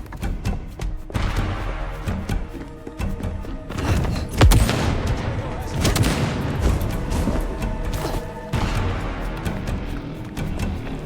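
Sniper rifle shots and heavy gunfire ring out in Vampire: The Masquerade Bloodlines 2, several booming cracks spread across a busy game soundscape, with dense rumble between the shots.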